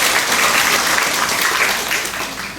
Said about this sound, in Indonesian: kita berikan tepuk tangan sekali lagi buat semua yang wisuda